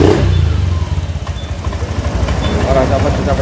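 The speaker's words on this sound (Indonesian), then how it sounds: "Nah ini motor langsung bisa hidup." Honda Vario 125 scooter engine catching and running, a loud, close, low throbbing idle under a man's speech.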